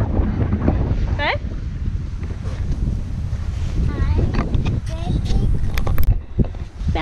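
Outdoor wind gusting past the microphone as a dense, rumbling roar that stays loud the whole time, with brief high chirps and rustles on top and a voice speaking softly beneath.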